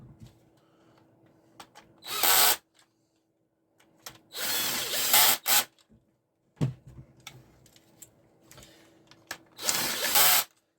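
A rotary hammer drill fires in three loud, short bursts of a few seconds each, separated by quiet pauses and small handling clicks.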